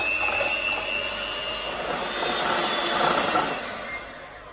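A small electric hand beater creams soft butter in a bowl for a cinnamon roll filling, a close, continuous rattling whir with a gritty mechanical texture that swells slightly as the beaters work, with no talking.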